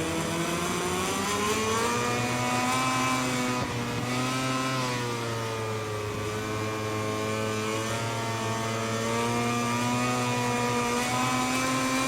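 Racing motorcycle engines in MotoGP 21 at the Argentinian Grand Prix, a sustained high-revving whine whose pitch rises and falls through gear changes and corners, steady and fairly loud without speech.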